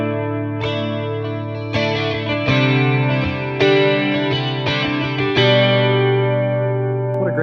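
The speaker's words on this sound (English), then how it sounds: "So the first one here is actually a chorus." Electric guitar played through the chorus effect of a Boss Katana 100 1x12 combo amp, strummed chords and picked notes shimmering and wavering, loud and close with no talking.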